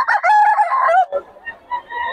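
A rooster at a Bocaue cockfighting-rooster market crows once, loud and close, its call rising then breaking off, followed by quieter scattered clucks and bird noises.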